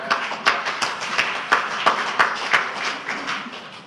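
Scattered clapping from an audience at a party working meeting, a steady patter of many hands with sharper individual claps standing out, moderately loud and continuous with no talk over it.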